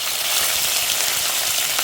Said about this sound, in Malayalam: കുറച്ച് കടുക് ഇട്ട് കൊടുക്കാം. കടുക് പൊട്ടി വരുന്നുണ്ട്.